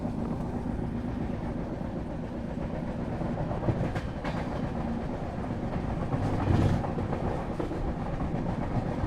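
The Sadbhavana Express, train 14007, runs on the rails near the Bihar–Uttar Pradesh border with a continuous heavy rumble, punctuated by rhythmic wheel clacks and a few louder jolts.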